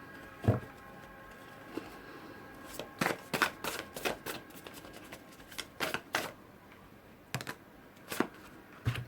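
Tarot cards are shuffled and drawn, giving a run of crisp, close riffling and slapping bursts in irregular clusters over a quiet background.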